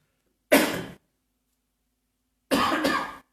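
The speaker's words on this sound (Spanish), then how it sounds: "voy a toser." Two separate coughs, loud and close, each a single harsh burst with silence between them.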